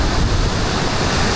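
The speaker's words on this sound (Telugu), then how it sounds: "చూడండి ఎంత పెద్ద వేవ్స్." Big ocean surf on a Sri Lankan beach where surfers ride the waves: a loud, constant roar of breaking water that fills the whole moment.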